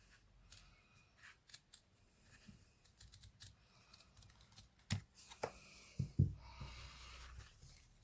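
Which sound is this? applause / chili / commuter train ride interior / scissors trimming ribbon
scissors trimming ribbon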